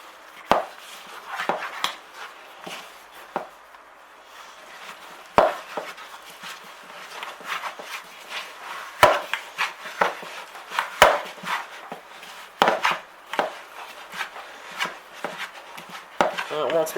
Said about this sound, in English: I like using the bottom of a spatula thingy or a spoon, whatever you want to mix it with.